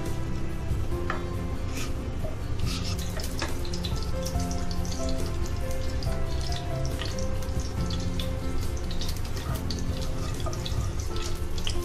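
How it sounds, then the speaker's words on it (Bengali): Bay leaves tempered in hot cooking oil in a pan, giving a steady, dense sizzle and crackle with scattered pops that runs unbroken and fairly loud, with no talking. "তেলটা একটু হলে এর মধ্যে আমি তেজপাতা ফোড়নে দিলাম"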